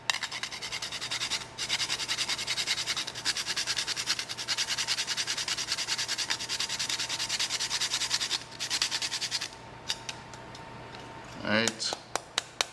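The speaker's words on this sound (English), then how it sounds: "So I'm gonna grate some nutmeg right in." Whole nutmeg is grated into hot cross bun ingredients, a close, fast, rhythmic scraping in repeated strokes that stops near the end, followed by a few light taps.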